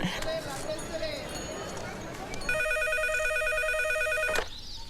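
A telephone rings during a call in a Hindi comedy film, a repeated electronic ringing pattern that starts midway and runs steadily, loud and close, after a stretch of busy background noise.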